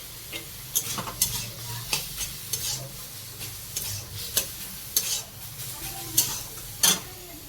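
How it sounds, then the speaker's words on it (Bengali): Meat braising in a pan while a spatula scrapes and stirs in a steady rhythm, about one stroke a second, over a constant close sizzle. "এখানে মাংস কষানো চলছে"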